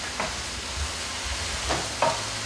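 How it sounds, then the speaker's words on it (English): Pasta cooks and thickens in a pot while a spoon stirs it, a continuous close sizzle and bubbling with a few soft scraping strokes and no talk. "Stir the pasta a little bit."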